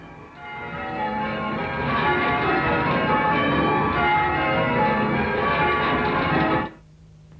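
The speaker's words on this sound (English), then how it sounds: "when you ring a bell, it starts mouth upwards and then it completes a full circle" A church bell rung full circle peals loudly and continuously with rich, ringing overtones, then stops abruptly, leaving a quiet low hum.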